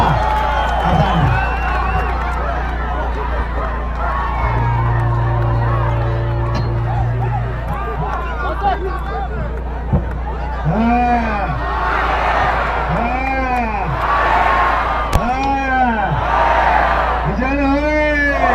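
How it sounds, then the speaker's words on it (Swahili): A crowd at a gathering in Githurai gives a round of applause for the father, clapping and cheering blended with a murmur of voices, while a few rising whoops or calls repeat over the noise toward the end. "Awaseni makofi kwa baba. Makofi tena kwa baba."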